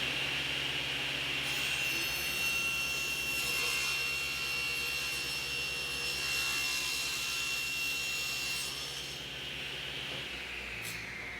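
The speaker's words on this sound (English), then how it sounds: "With the blade set at 45 degrees, I'll make the same chamfer on the bottom of the board." A saw blade tilted to 45 degrees cuts a chamfer along the bottom of a wooden board, a steady, loud whine and rushing roar held for the whole stretch without a break.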